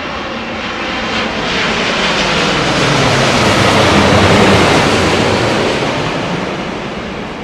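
An airliner arriving at Heathrow roars overhead in a low-pressure approach. The engine noise swells steadily to a loud peak and then begins to fade as it passes.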